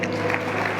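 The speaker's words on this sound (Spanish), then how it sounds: "Den un aplauso a Dios." Brief burst of congregation applause during a church sermon, a dense, even wash of clapping held at a steady level for under a second.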